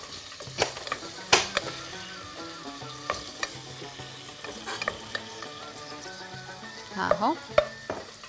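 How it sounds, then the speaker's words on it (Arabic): Onions and mushrooms sizzle steadily in a frying pan while a utensil scrapes and clinks as they are stirred, with a few sharper knocks against the pan. A voice speaks briefly. "انا نخلط هذه ونزيد البصل"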